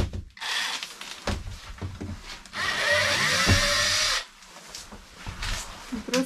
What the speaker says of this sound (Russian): Этот саморез выкручивай.